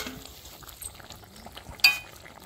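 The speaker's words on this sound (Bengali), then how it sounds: "এখন আমি হালকা করে এরকম করে একটু নাড়া দিব।" A spoon gently stirs river prawns in a simmering curry pan with wood taro, giving soft, faint scraping and bubbling, then one brief sharp clink of utensil against the pan near the end.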